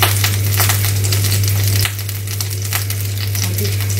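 Potato pancakes with cottage cheese frying in a pan give a steady, close crackling sizzle over a low constant hum, with no one speaking.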